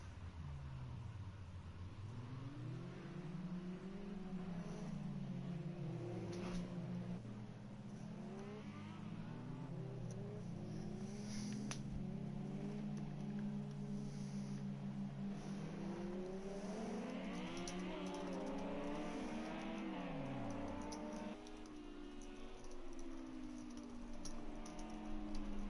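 Several race cars circulating at Oulton Park during a club sprint night, engines revving and shifting through gears as they pass, a continuous loud drone with rising and falling pitch from multiple cars.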